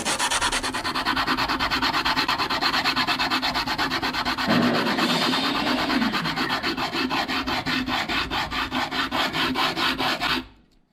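A 3D printed GoPro mount being hand sanded with cheap 80 grit sandpaper: steady, rhythmic, close rasping strokes that run continuously for about ten seconds before stopping abruptly.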